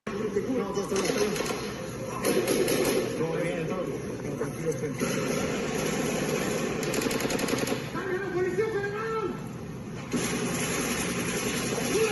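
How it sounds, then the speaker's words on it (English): Gunfire from a played-back recording of a police shootout around a house in Mexico, with sustained bursts of automatic shots through a tinny playback, mixed with voices and background noise. "It's just a video of the shooting."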